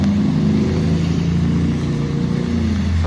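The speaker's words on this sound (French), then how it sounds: "Je ne sais pas si vous entendez le bruit des voitures." Steady traffic hum of cars driving past a car dealership in Greenwich, a continuous low engine and tire drone with no distinct single vehicle standing out.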